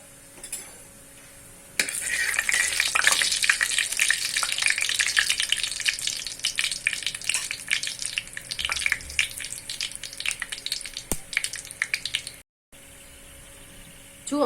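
Cumin seeds with small cardamom pods and a piece of cinnamon crackle and sizzle loudly in hot oil, a steady spitting hiss with scattered sharp pops and a few utensil clinks, with no talking.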